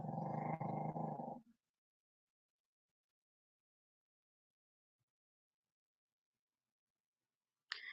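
A dog lying on a bed lets out a loud, rumbling growl up close for about a second and a half, then falls silent.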